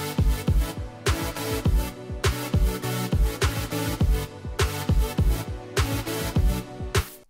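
A synth counter melody rides over a pounding electronic beat with heavy kicks in a song's drop, steady and loud throughout, with no voices.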